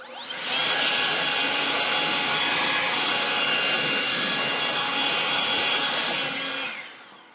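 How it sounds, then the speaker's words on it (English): A leaf blower used to clean out a computer roars at full power for several seconds, a loud steady rushing whoosh that starts abruptly and winds down at the end. "we're just going to give it a quick cleanup with this leaf blower"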